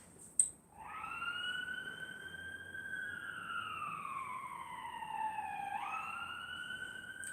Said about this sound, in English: wait for the sirens to go